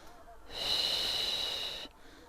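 A pregnant woman breathes during an autumn outdoor walking workout, letting out one long, loud, wheezy exhale of about a second and a half, close to the microphone, with no talking over it.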